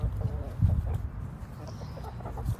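Chickens on a small farm cluck in short, scattered bursts close by, with low rustling and a voice speaking briefly among them.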